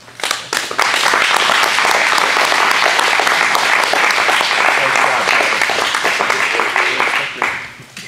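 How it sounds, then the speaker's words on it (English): A meeting audience breaks into a sustained round of applause for a safety award presentation, loud and steady for several seconds before tapering off at the end. "I'd like a big round of applause and him to come up, Kevin Green."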